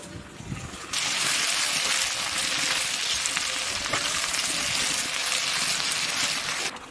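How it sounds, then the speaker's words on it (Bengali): Chopped onion and tomato fry in hot oil for a homemade chicken curry, giving a loud, continuous close-up sizzle that starts suddenly and runs unbroken, with light stirring noise in the background. "পেঁয়াজ টমেটো ভাজা হয়ে গেছে"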